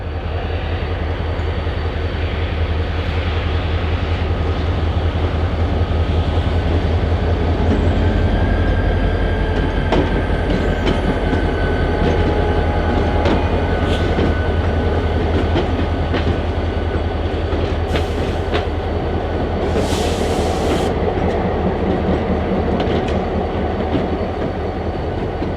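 Clinchfield 800, a 72-year-old freight locomotive, pulls a caboose with a steady loud diesel rumble, rolling wheel noise and rail clatter, with a couple of brief higher squeals near the end and no talk.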